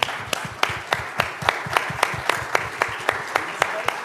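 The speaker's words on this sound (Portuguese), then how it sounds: "Vamos aplaudi-los agora?" A church audience applauds a male gospel vocal group in steady, rhythmic unison claps, each sharp clap evenly spaced about a quarter second apart.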